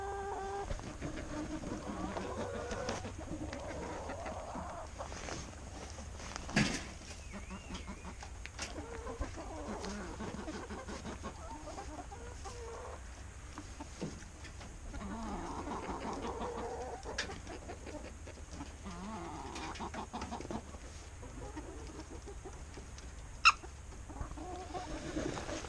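Chickens leave an egg mobile on a snowy farm, giving soft, scattered clucks and low murmurs at a steady, faint level, with a few sharper squawks and knocks standing out.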